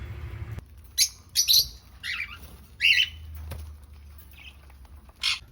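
A pet parrot gives a few sharp, shrill calls and squawks at close range, spaced irregularly with quiet gaps between them.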